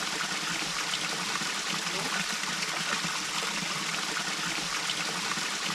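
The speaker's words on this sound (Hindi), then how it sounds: "होम स्टे से बमुश्किल 30 कदम दूर पानी का एक प्राकृतिक स्रोत है" Natural water spring running near a homestay in an orchard, a faint, steady trickle and babble of flowing water with no voices, continuous and even throughout.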